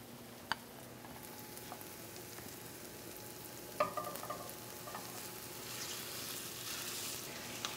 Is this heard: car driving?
no